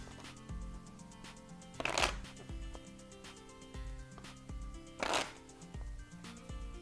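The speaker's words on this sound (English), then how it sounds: "I'm going to do my super shuffling and super dealing tricks here" A deck of playing cards for a tabletop game is shuffled up close, with steady riffling flutters and two louder bursts where the cards snap together, and no talking over it.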